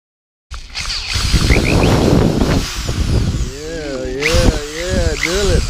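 A power drill whirs in loud, uneven bursts during car front lip repair, and voices talk over the later part.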